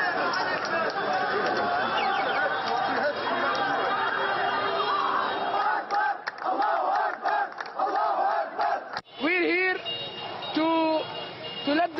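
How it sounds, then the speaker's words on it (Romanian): A large, angry crowd of protesters shouts and chants while storming the US embassy in Beirut, a loud, continuous roar of many voices with some breaks and a few louder calls near the end. "protestatari furioși au luat cu asalt ambasada SUA din Beirut"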